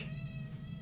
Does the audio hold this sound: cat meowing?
yes